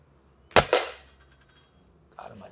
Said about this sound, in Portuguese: eu vou dar mais dois tiros com ele para ver se realmente ele é só de expansão